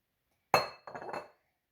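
A glass bowl set down on a kitchen counter makes a sharp clink, followed by a brief rattling settle, heard alone and close.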